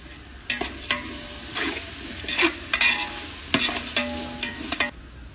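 A spoon stirs masala for mutton biryani in a hot pan, scraping and clinking in irregular strokes over a soft, steady sizzle of frying, close up and with no talking.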